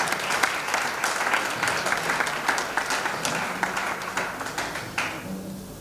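Sustained audience applause fills a church hall at a Christian workers' evening panel in Cotonou, steady clapping from a crowd that thins and fades toward the end.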